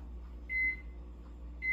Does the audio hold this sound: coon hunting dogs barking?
no